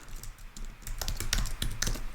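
A domain name is typed on a computer keyboard, with a quick run of close, crisp key taps over about two seconds and no talk.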